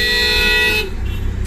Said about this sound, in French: devant la majorité des écoles, en fait, c'est beaucoup de klaxons